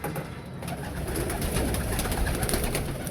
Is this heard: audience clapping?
no